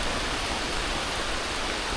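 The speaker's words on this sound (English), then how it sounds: "And the rain has begun." Rain falls steadily on the Appalachian Trail, a dense, even hiss of drops filling the air at close range with no other sounds standing out.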